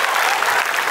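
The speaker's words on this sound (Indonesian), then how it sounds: "Boleh tepuk tangan untuk Firda dan The Gang." Studio audience applause on a television game show, Family 100, a dense, steady clapping that fills the whole second at loud, even intensity with no voices rising above it.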